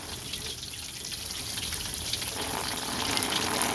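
A garden hose sprays water up onto a house roof and into the gutter, giving a steady, broadband hiss and patter that swells slightly louder over the span, with no talk.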